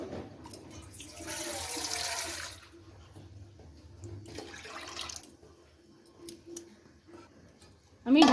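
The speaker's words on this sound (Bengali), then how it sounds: "এখন আমি জল দিয়ে দিব পরিমাণ মতন, যতটুকু মানে সিদ্ধ হবে।" Water splashes into a pot of washed mung dal set to boil, a couple of separate pours, the first and longest lasting about a second, with quieter gaps and some talk between.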